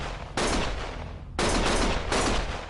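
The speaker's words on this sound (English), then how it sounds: "Stop shooting!" Gunfire in the video game Lost Judgment: two loud, sustained bursts of broadband shooting, the first starting after a brief quieter moment and the second swelling again near the end, with no talk.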